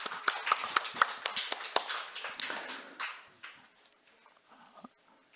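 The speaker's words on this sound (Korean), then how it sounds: "격려의 박수하겠습니다" Church congregation clapping in encouragement for volunteers during a Sunday service, a burst of scattered, fairly close hand claps that thins out and fades to quiet after about three seconds.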